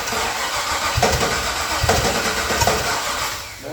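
An old Datsun-based project car engine fires on starter fluid, giving loud, rough, sputtering bursts of combustion over a dense rumbling roar that continues throughout the clip.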